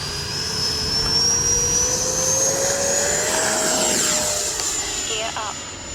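An FMS Afterburner V4 RC model jet's motor runs steadily at takeoff, a loud continuous whine with rising pitch, climbing and then slightly dipping as the aircraft accelerates and passes, with no talk.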